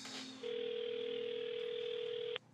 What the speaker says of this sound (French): je vais l'appeler pour essayer d'organiser une rencontre